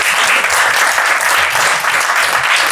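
A panel audience at a talk on rap journalism bursts into loud, sustained applause, a thick, even roar of many hands clapping close by with no pause throughout.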